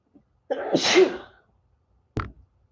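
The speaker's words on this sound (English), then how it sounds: "I feel like I can sneeze" A single sharp sneeze, a breathy intake bursting into a loud release, followed by a brief click or thump after a pause.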